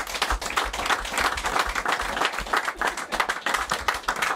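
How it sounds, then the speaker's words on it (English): A room full of people giving a round of applause, dense steady clapping at close range, fairly loud and alone. "I think that deserves a round of applause."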